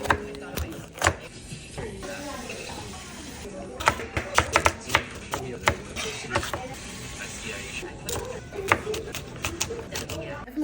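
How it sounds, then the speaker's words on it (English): A knife chops ingredients for a home chicken dinner on a cutting board, with irregular sharp taps in quick clusters and scattered single strikes over a quiet kitchen background, close to the listener. "Definitely got tired of chopping, so I tried to do like a quick mince"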